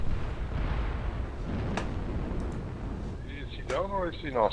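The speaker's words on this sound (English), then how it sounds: "artillery strike" Artillery strike explosions in the video game Mechwarrior Online, a sustained rumbling barrage of low booms with a few sharp cracks, and a voice talking briefly near the end.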